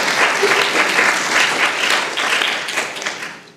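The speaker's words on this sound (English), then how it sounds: "Please give another round of applause to Dr. Estrada" An audience at a school TED-Ed event gives another round of applause for a speaker, with loud, dense clapping that stays full and then tapers off near the end.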